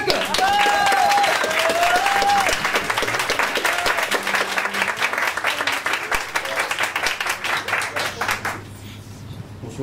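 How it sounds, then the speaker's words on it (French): An audience at a comedy show applauds comedian Timo Falcone, a dense, steady wash of many hands clapping for several seconds with faint music early on, before the applause thins and fades out. "à terre, l'applaudissement pour Timo Falcon"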